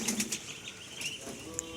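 Pigeons leaving a loft, soft quick wing flaps and a few faint bird calls, fairly quiet and close, no talking.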